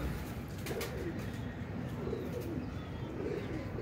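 Pigeons cooing at a rooftop loft, low soft coos repeating steadily over a noisy outdoor background with faint bird chirps, no talk.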